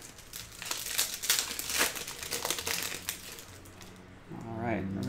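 A pack of Topps Chrome Black baseball cards is torn open and unwrapped, with a long run of loud foil crinkling and tearing, and someone speaks briefly near the end.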